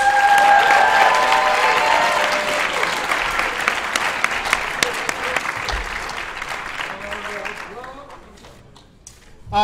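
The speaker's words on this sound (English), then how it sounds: "Round of applause for all of our CEDA triple octafinalists." Sustained audience applause at a college debate awards ceremony for national tournament octafinalists, dense clapping from a large crowd that gradually thins and fades out near the end, with a voice faintly over it.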